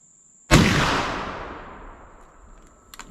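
A rifle loaded with 4F black powder fires a single loud, sharp blast whose roar decays slowly over about two seconds, with a faint click near the end.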